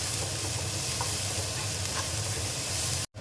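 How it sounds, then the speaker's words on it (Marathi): Onion fries until golden brown for a dry bangda (mackerel) dish, an even, close crackling sizzle with soft stirring scrapes, cutting off abruptly near the end, and no voices. "कांदा व्यवस्थित गोल्डन ब्राऊन होईपर्यंत फ्राय करून घेते."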